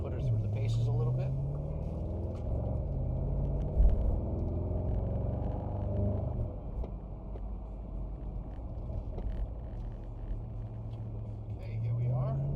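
A 2021 Bentley Continental GT V8 coupe with all-wheel drive takes a run of S-curves, its steady engine rumble and road noise filling the cabin and swelling as it accelerates out of the bends.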